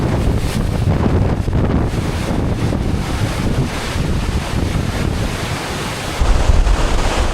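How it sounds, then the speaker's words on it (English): Hurricane Helene's storm surge crashes continuously in heavy surf at Cedar Key, Florida, under strong, roaring wind buffeting the microphone, with a louder surge of water near the end. "What you're looking at is one of the most terrifying forces of nature, storm surge."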